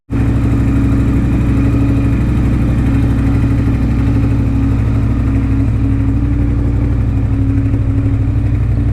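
A motorcycle engine runs loud and close, holding a steady, throbbing note for the full stretch with little sign of sharp revving and no voices.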